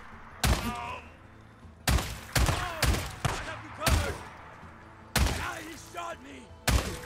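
Gunfire from a video game in which the player fights a horde: several loud, separate bursts of shots spaced a second or so apart, each fading out quickly, with no talking over them.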